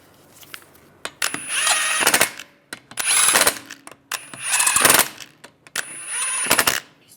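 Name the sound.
tightening wheel lug bolts on Volkswagen Beetle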